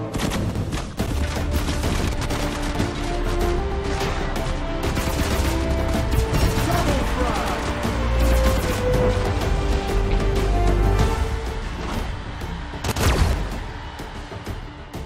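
Gunfire during an attack on a base in a video game: dense, continuous bursts of automatic shots and blasts, loud and close, with a heavier burst near the end.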